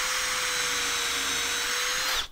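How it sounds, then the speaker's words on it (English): A power drill whines steadily as it bores a hole in pallet wood, one continuous close high-pitched run that winds down and stops at the end. "I'm gonna drill holes in them."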